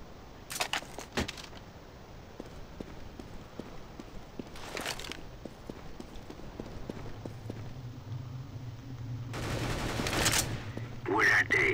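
Gunfire in Counter-Strike: Global Offensive, scattered bursts of shots at varying distances over a low background rumble, ending in louder rapid volleys close by.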